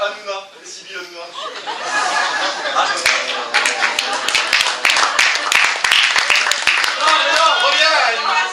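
Scattered, uneven hand claps from a comedy club audience break out amid chuckles and chatter, growing into a ragged patter of applause.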